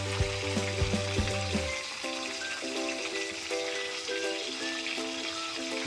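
Ginger fries in hot oil with a continuous crackling sizzle and scattered small pops, steady and close, with no one talking over it.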